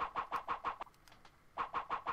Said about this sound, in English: So I guess there was a chicken in that area that I did not see?